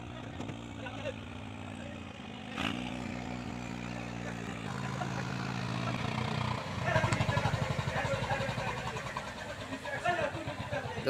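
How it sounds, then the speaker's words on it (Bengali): A fishing trawler's diesel engine drones steadily as the boat arrives at the Nazirpur launch ghat, its low throb growing louder and turning into a rapid thumping chug in the second half, with indistinct voices and river ambience around it. "তো মাছ ধরার ট্রলার এখানে আসলো, মনে হয় জাল বিছিয়ে রাখবে"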